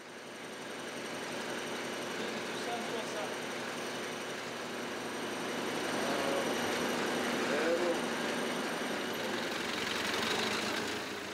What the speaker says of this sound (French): Ça c'est mon tracteur, mon vieux tracteur aussi, pour labourer les vignes qui sont en coteau